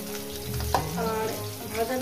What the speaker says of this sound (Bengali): প্রথমে আমি আলুটাকে ভেজে নেব, মিনিমাম 2-3 মিনিট ধরে আলুটাকে ভেজে নেব।